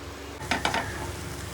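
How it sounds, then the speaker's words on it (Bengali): An oat, egg, capsicum and onion pancake fries in a pan with a soft steady sizzle, broken by a few quick scraping stirs of a utensil against the pan near the middle. "আবার প্যানকেক বানিয়ে দিচ্ছি পাবলোর জন্য, ওটস আর ডিম দিয়ে, আর একটুখানি ক্যাপসিকাম আর পেঁয়াজ দিয়েছি।"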